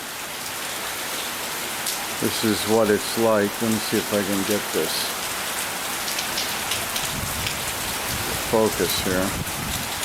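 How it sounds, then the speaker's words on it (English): Rain pouring steadily on the land side of Truk Lagoon, a dense continuous hiss with someone speaking over it in short bursts. "I wanted to give you a little taste of the rain."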